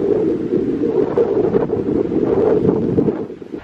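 Strong wind on a golf course buffets the microphone in a steady, heavy rumble with gusty surges throughout, loud and close, with no talking.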